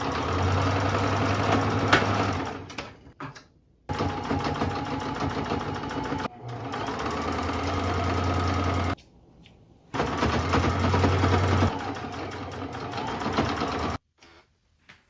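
A sewing machine stitches thrifted clothes during alterations, humming and rattling close by in three sustained runs separated by brief pauses.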